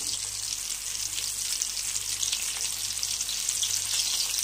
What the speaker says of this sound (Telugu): ఇలా అన్ని చికెన్ వింగ్స్ని మనము ఫ్రై చేసుకుని తీసుకుందాం.